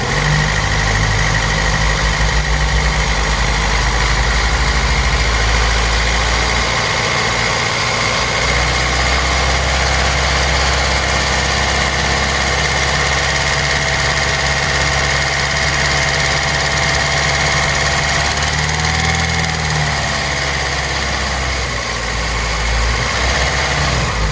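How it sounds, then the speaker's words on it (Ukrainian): Car engine idling steadily at roughly 1500 rpm, a loud, constant low rumble with faint vibration that holds even throughout, no voices over it. "зараз він працює рівненько, хоч копійку клади, даємо приблизно півтори тисячі оборотів"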